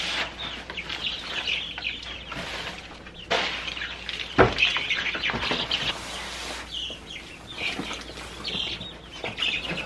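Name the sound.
baby chicks chirping in brooder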